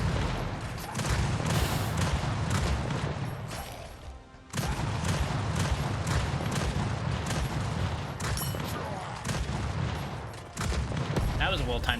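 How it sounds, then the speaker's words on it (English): Dense, rapid gunfire from a strafing run fills a top-down shooter game called R.I.P.: Reincarnation Insurance Program. The shots rattle continuously and loudly, with one short dip partway through. "That was a well-timed strafing run"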